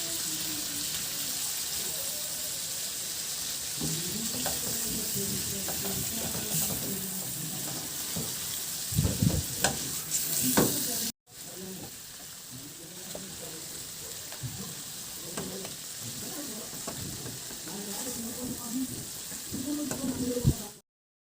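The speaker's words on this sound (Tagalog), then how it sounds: "Ihalo ko lang yan hanggang sa maluto o hanggang sa magkulay orange na." Shrimp fry in a pan and are stirred, a loud steady sizzle running throughout with scraping stir strokes and a brief break midway.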